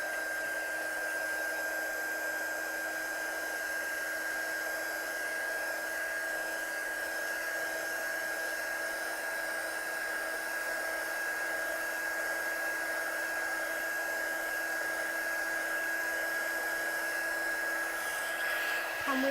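A hair dryer runs steadily and close by for the whole stretch, drying stamped ink on a card background with a constant whine and airy hiss that never changes.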